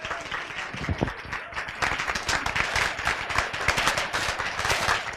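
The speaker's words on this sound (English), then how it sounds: "And a warm applause for Gary." Steady applause from the audience at a casting panel event, dense clapping that holds at an even level throughout with no voices standing out.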